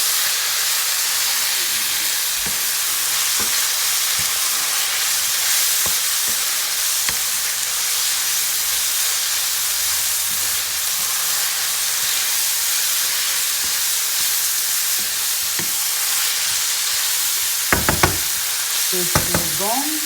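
Meat filling with pepper frying in a pan for pastels, a steady loud sizzle and hiss throughout, with scraping stirs near the end.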